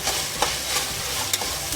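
Mint and coriander leaves sizzle steadily as they fry in a pan, a continuous crackling hiss broken by a few brief stirring scrapes, close and alone with no talk.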